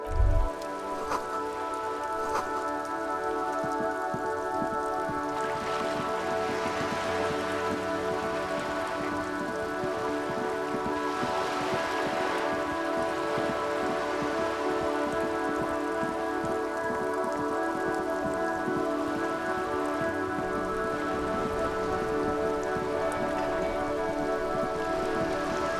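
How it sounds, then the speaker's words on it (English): Steady rain falls on wooden boards in the video game Disco Elysium, a constant even patter with no pauses that holds at the same moderate level throughout, under a faint tonal backdrop. "All around you, rain keeps falling down. On the wooden boards she's standing on"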